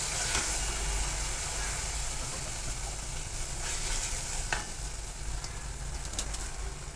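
Mixed vegetables for a Bhogi-style sabzi fry and get stirred in spiced masala and oil, giving a steady, close hiss of sizzling throughout with a few soft scraping stir strokes.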